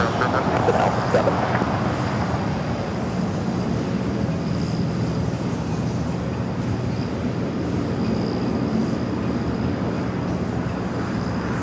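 British Airways Boeing 777-300ER arriving at LAX from London Heathrow, a continuous mid-level jet rumble and rush that fades slightly after a louder start, with faint radio-like chatter in the background.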